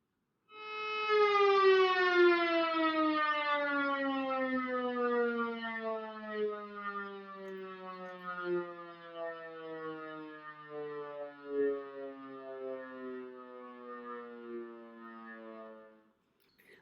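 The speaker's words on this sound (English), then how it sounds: "Listen to the sound of this air siren and notice the smooth sound of an undivided pitch" An air siren winds down in one smooth, unbroken glide, its rich tone sliding steadily lower in pitch across the whole stretch, clear and alone with no steps between notes.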